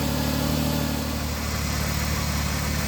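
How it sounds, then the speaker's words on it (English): Just after a repair, a car engine idles steadily with a low, even hum and faint vibration. It runs close and fairly loud, with a smooth rhythm and no talking. "as you can hear, it seems to be idling pretty good"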